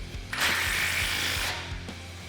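A ratchet tightens exhaust clamp flange nuts on a 1999-2004 Mustang GT Borla cat-back exhaust, producing a close, steady run of rhythmic clicks with a whirring metallic texture that stops abruptly.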